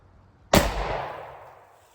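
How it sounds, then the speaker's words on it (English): A single loud, close shot from a snubnose .410 shotgun loaded with a Winchester Super X shell, fired at 3 yards, a sharp blast that rings out and fades over about a second and a half. "First shot from 3 yards on your left-hand side"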